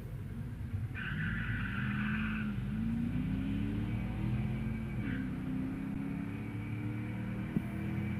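Engine roar from a Chevelle and a new Dodge Charger drag racing at a night drag strip, a steady loud rumble with rising revs and a brief higher whine early on, continuous throughout.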